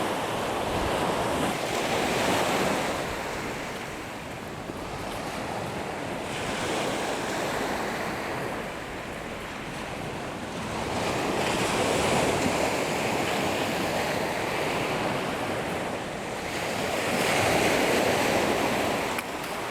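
Sea waves roll and break near the shore in the morning, a loud continuous wash of surf that swells and recedes in slow surges, with wind buffeting the microphone.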